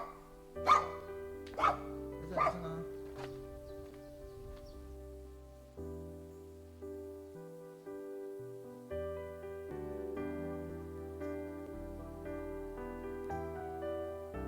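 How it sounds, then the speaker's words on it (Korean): A dog barks three or four sharp times close by in a played video about a dog waiting for its vanished owner, then soft music continues alone. "갑자기 사라져버린 주인을 끝까지 기다리고 있는 개, 강아지, 또리의 이야기인데요"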